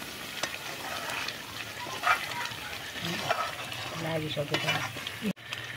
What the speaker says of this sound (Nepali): मजाले भुट्ने।